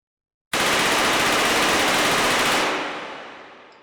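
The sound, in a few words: Mac-11 gunfire in video game H3VR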